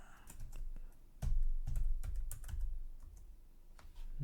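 Close, quiet clatter of a computer keyboard as a short word is typed, a quick run of distinct keystrokes with a brief pause between bursts.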